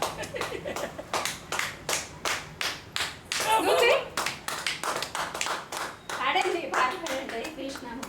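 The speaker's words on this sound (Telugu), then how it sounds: "క్లాప్స్ చూడు నాయనమ్మ, క్లాప్స్ ఎలా కొడుతున్నా" A child claps hands in a quick, steady rhythm of sharp claps, close by, while voices talk and sing over it.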